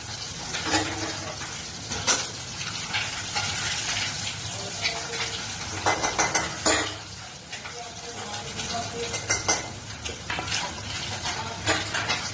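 Steady oily sizzling of fish frying in oil, with bursts of louder spattering crackle, close and continuous, with faint clinks now and then.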